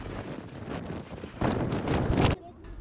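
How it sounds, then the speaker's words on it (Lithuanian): Strong wind gusts through Kupiškis, Lithuania, buffeting the microphone with loud, roaring rumbles that swell in the middle and cut off abruptly, while a voice speaks over it. "Kupiškis pasitinka stiprių vėjų."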